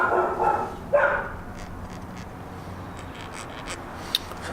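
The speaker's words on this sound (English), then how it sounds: "Somebody needs to take care of their dog." A dog barks a couple of times in the distance, short muffled yaps near the start, then faint yips amid quiet workshop background during a motorcycle side rack installation.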